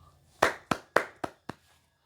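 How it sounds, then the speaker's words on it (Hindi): Five sharp hand claps in a loose slowing rhythm, close and fairly quiet, with near silence between and after them. "तालियां।"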